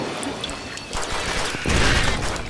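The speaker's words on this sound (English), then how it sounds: "more shooting" Gunfire in Post Void, a fast first-person shooter game: noisy, crashing blasts over a busy game soundscape, growing louder and denser toward the end.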